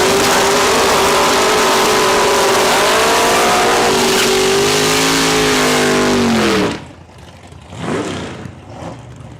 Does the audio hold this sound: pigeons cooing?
no